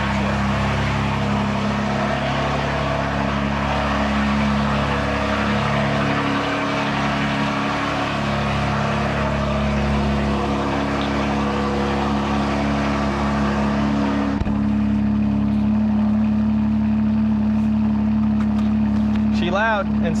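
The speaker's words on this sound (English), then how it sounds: "let's start her off with a little cold start" BMW M4 xComp with catless downpipes, running on E40, given a cold start: a loud, rough engine idling and revving steadily up close, then settling into a high idle drone, with a person talking over it.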